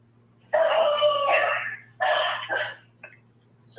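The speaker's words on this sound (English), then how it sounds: "Sorry, that's my dog." A dog gives a couple of long whining barks or howls, fairly close, then a faint short yip, over a low steady hum.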